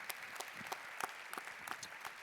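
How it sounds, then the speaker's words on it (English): An audience at a panel discussion on sport and tolerance applauds a speaker, a faint, steady roomful of clapping heard from a distance, with a few sharper claps standing out. "Let's give him a round of applause, ladies and gentlemen."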